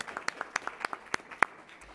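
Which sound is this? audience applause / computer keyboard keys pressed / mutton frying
audience applause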